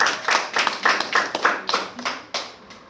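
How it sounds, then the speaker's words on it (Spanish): A small Sunday Bible-study congregation claps for a church member: about eight quick, fairly even hand claps close by, fading slightly toward the end, with no one speaking over them. "Un aplauso al hermano."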